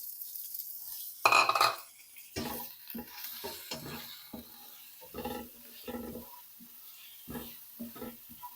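Spring onion whites go into a pan of frying chillies and are stirred with a spoon, giving bursts of sizzling and repeated clinking, scraping strokes in an uneven rhythm, close by.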